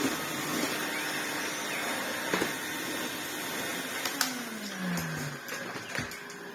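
An Azurus vacuum cleaner runs on a mid-range power setting with a steady, fairly faint hum, broken by a few small knocks and one brief falling whine.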